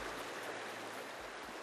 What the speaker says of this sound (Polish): Do Morza Czarnego swoje wody toczy także ten niewielki potok, płynący w okolicach Opołąka